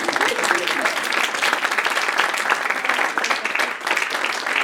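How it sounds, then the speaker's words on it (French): Audience in a hall applauds in a full, steady wash of clapping from many hands, loud and continuous with a brief dip near the end before resuming. "Une petite fois d'applaudissements pour le Québec."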